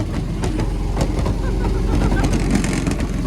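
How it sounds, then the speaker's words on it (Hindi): A car driven fast with a steady engine rumble and heavy road and wind noise from inside the cabin, continuous and fairly loud across the whole moment. "गगन ने चलानी शुरू कर दिया और ये तेज चला रहा है"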